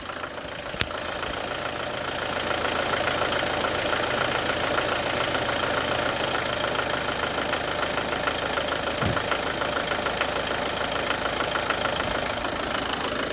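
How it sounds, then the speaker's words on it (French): Peugeot 307 engine idling after an oil change and full service, a steady even hum with light mechanical ticking heard close up, continuous and alone with no talk. "Je vais éteindre la clim pour écouter un peu mieux le moteur."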